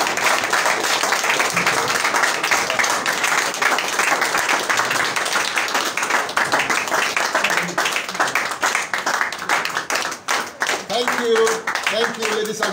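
Audience at a public gathering about a 90-day notice claps and applauds at length for the leader after a closing speech, steady dense clapping throughout with crowd noise.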